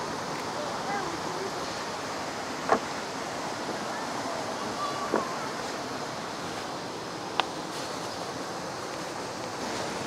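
Jianduoduo waterfall, a wild waterfall pouring over layered rock, gives a steady, broad rushing roar that runs without pause, with a few brief knocks over the top.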